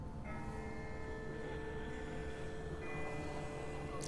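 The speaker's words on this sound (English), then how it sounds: "That's not the same bell as before. This one's further off." A distant bell rings from afar in The Walking Dead video game, a faint tolling tone sustained over a steady low ambient rumble, with no voices.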